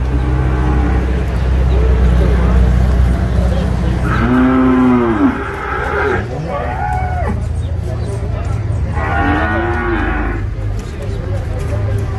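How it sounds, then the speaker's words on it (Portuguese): Cattle moo at a livestock fair in Bezerros, Pernambuco, including cows with calves and Nelore stock. Three loud, drawn-out bellows come close by, two in quick succession and one later, over constant crowd murmur and background voices. "Aqui tem 7 vacas."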